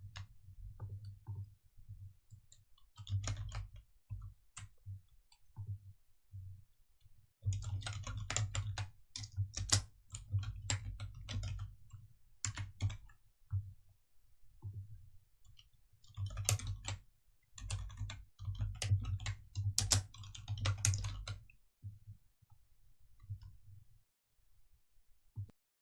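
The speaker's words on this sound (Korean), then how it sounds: "적용 후 내용 타이핑하십니다." Typing on a computer keyboard comes as bursts of rapid close clicks with short pauses between runs over a faint low hum, and no one speaks.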